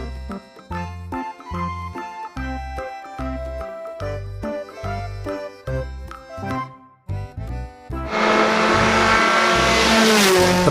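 A race car engine roars loud and steady with broadband noise over the last few seconds, right after a rhythmic musical jingle.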